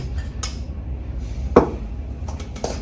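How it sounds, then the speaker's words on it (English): Metal spoon stirring ground garlic in a pan while making stuffed zucchini: a few light clinks and scrapes, with one sharper knock near the middle, over a low, steady kitchen hum. "I stirred it."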